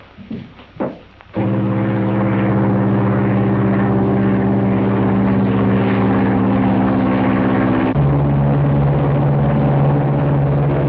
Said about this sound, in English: Perhaps he's taken the light plane up for a little spin to try something out.